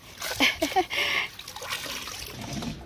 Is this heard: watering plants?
yes